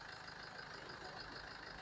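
A 2016 Mercedes-Benz GLE 4MATIC with a 2.2 diesel engine idles with a steady, faint, even hum and no voices over it.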